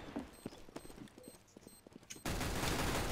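Gunfire in a Counter-Strike: Global Offensive competitive match: a few faint clicks and thuds, then a sudden loud, sustained burst of shots that runs to the end.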